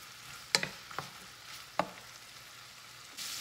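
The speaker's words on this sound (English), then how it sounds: "Almost done browning up the salami." Salami browns in a pan with a soft, steady sizzle, broken by a few sharp scrapes and clinks of stirring, faint and close, with no voices.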